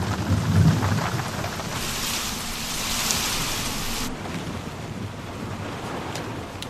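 Heavy rain pours down steadily in a movie scene, a loud continuous hiss. A deep thunder rumble rolls in near the start, and the downpour eases slightly toward the end, with no voices.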